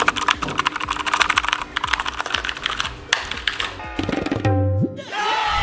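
Rapid, clicky typing on a Keychron K2 wireless mechanical keyboard, close and loud, with steady keystrokes running throughout.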